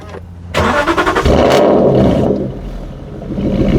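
Aston Martin Vantage GT8 engine starting up close: a starter whirr, then a loud catch and bark into a rev flare that settles into a deep, rumbling idle.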